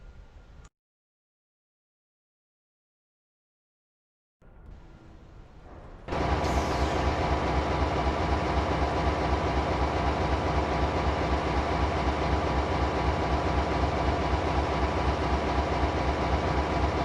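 A locomotive idles with loaded boxcars in Train Simulator 2020, a steady low engine rumble with rail noise that cuts in loudly after a brief silence and continues unbroken.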